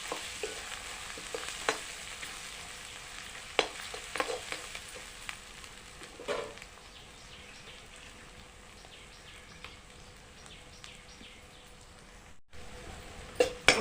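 Turmeric is stirred into a frying mixture in a pan while making a goat head curry. A soft, steady sizzle is heard alone, with occasional clinks and scrapes of a spoon, louder near the start and end.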